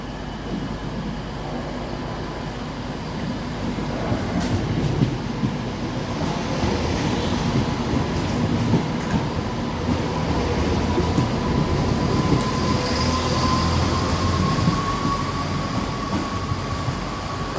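A Class 170 Turbostar diesel multiple unit passes through Nottingham station with a steady, loud rumble of engine and wheels, a faint squeal of wheels rising midway and continuing to the end.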